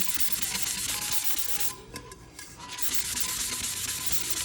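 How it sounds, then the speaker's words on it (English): Steady, close abrasive rubbing of sandpaper over a tumbler being prepped before oven-baked clay is added, continuous scratchy strokes with a brief softer dip midway, no voices. "So go ahead and just sand your tumbler down."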